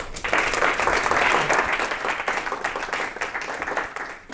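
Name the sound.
audience applause welcoming speaker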